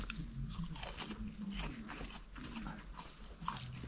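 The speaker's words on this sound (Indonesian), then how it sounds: "Makan tahu di Sendang Derajat." Crunchy freshly fried tofu being eaten at Sendang Derajat on the Lawu mountain trail via Cemoro Sewu, close, quiet bites and chewing crunches repeating irregularly.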